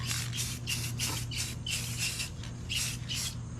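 Gold spray paint hissing onto a pumpkin in bursts, about nine short sprays in quick succession, close and steady over a constant low background hum.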